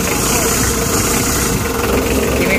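Mitsubishi L300 engine idling with a broken small timing belt whose teeth have stripped, a steady close, loud mechanical rumble with continuous vibration and faint knocking throughout.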